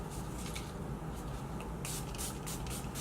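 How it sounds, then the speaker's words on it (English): Hissing spray bursts from a close bottle of Milani Make It Last setting spray, a few short pumps in quick succession over a quiet background. "set it down with my Milani Make It Last setting spray"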